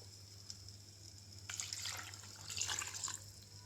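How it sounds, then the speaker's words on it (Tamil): Water poured into a pot holding chicken bones, onion, tomato, ginger, garlic and green chili, a short splashing gush that starts partway through after near silence, fairly close and faint, with a low steady hum beneath. "1 கப்பு தண்ணி இதில் விட்டுடலாம்."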